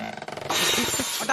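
A voice imitates a metal pot clattering down and rolling, with quick rhythmic knocks and then a bright, rattling crash.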